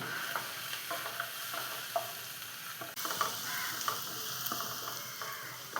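Food frying in a pan with a little salt while being stirred, an even close sizzle with regular scraping strokes of the spoon, no voices over it.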